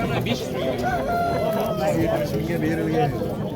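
A rooster crows at a busy poultry market in Baliqchi, its call rising briefly through constant loud chatter and voices close by.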